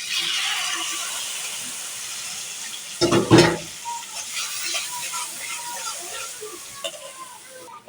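A little water goes into ginger-garlic paste frying in a hot pan and sets off a sharp burst of sizzling at about three seconds, then a softer crackle carries on under a steady frying hiss.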